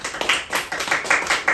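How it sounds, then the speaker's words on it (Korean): Church congregation clapping in welcome, a brief burst of dense, fairly close applause with uneven rhythmic peaks, no voices over it. "크게 환호해 주시고 박수로 격려, 감사 표현해 주시길 바랍니다"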